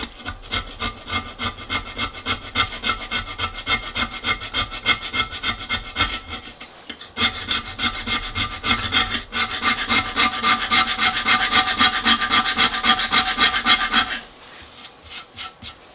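A file rasps over a marble bonsai pot being carved, making steady, rhythmic back-and-forth scraping strokes up close. The strokes pause briefly twice and stop near the end.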